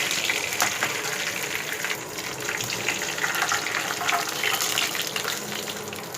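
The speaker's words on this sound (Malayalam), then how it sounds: "നന്നായിട്ടൊന്ന് വതങ്ങിയ ശേഷം പുളിവെള്ളം ഒഴിക്കാം." Tamarind water poured into a pan for ginger curry (inji puli), a continuous splashing, trickling pour with light sizzling, close and steady for several seconds.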